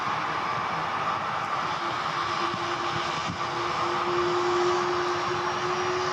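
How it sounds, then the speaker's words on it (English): A helicopter sits on the ground at Blackpool with its rotors turning, giving a steady broad engine roar and whine at moderate distance that swells slightly toward the end. "it's making a right racket, this helicopter."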